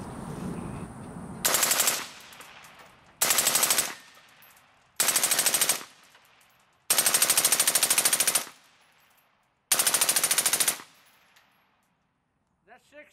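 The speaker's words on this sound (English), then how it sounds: "we're going to shoot the last 60-round magazine for the day" Five sustained bursts of full-auto gunfire from a Magpul PMAG D-60 60-round drum magazine, each a rapid rattling string lasting one to two seconds, separated by short pauses with ringing decay, loud and close outdoors.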